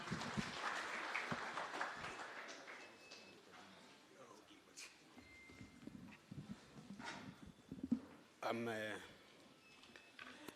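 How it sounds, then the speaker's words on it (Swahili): Applause from an audience at a public budget dialogue forum, a scattered patter of clapping that rises and fades, with someone speaking over the public address system. "Tumpigie makofi akija."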